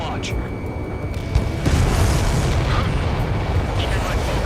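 A missile strike and explosion during an Ace Combat 7: Skies Unknown air-combat mission: a booming blast swells over steady jet-engine roar and stays loud, with radio chatter mixed in.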